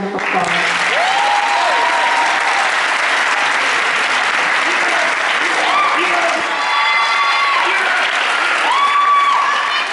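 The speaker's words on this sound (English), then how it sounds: "Let's give them another round of applause." Audience applause fills a senior awards ceremony at a high school, steady and sustained clapping from a large crowd with a few brief whoops or vocal sounds rising over it.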